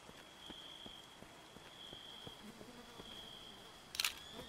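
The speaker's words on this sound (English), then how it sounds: "It's raining." Steady soft rain hiss in the horror game The Hunted, a constant faint patter with a steady high tone running through it and a short bright click near the end.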